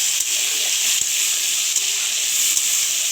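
Shrimp frying in hot oil in a pan, a steady bright sizzle throughout with a few faint utensil taps.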